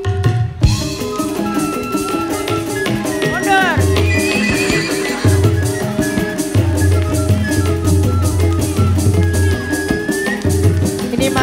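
Horse neighs and whinnies with clip-clop hooves ring out at a lively Indonesian TV singing contest stage show, mixed into loud band music and a crowd.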